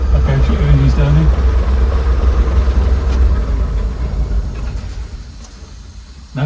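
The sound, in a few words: Class 117 DMU diesel engines idling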